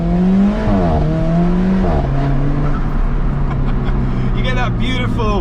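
Alfa Romeo 4C with a 1.75 litre engine breathing through its standard race exhaust, a loud close rumble that rises and falls in pitch as revs change, with someone talking over it.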